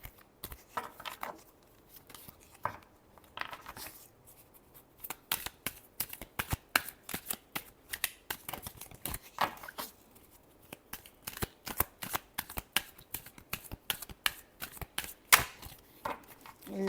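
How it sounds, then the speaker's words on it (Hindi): A deck of tarot cards is shuffled close by in rapid, crisp riffling bursts of papery clicks and flutters. The bursts repeat almost continuously with only brief pauses, and there is no talk. "last shuffle"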